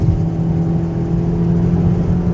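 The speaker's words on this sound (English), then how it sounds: "Now 70 miles an hour, wide open throttle." Steady droning engine of a Chevy Cruze with a 1.4L turbo running wide open throttle at highway speed, a constant loud low hum with a firm tonal whine, heard from inside the cabin without voices.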